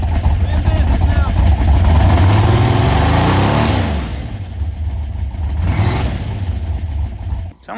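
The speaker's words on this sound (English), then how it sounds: "Sound like my belts were slipping just a little bit." A 1980 Chevrolet C10 truck engine with slipping belts revs hard, its pitch sweeping up and down, then drops back and surges again, loud and close, with a faint squeal riding over the rumble.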